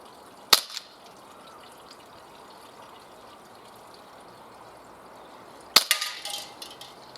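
A non-blowback USP BB pistol fires copper-coated lead BBs, giving two sharp, isolated shots about five seconds apart, each followed by a brief rattle of impact over quiet background hiss.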